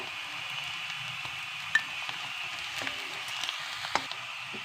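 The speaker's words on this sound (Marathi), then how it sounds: "कांदा आणि मिरची चांगली आता भाजलेली आहे त्याच्यामध्ये लसूण चेचलेला घालूया" Crushed garlic goes into onion and green chilli frying in oil, giving a steady close sizzle with a few light clinks of a stirring spoon and no talk.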